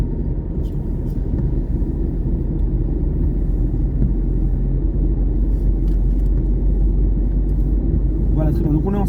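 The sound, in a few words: car accelerating during a driving lesson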